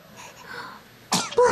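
A sudden close sneeze bursts out after a stretch of quiet room sound and is followed by a short breathy squeal.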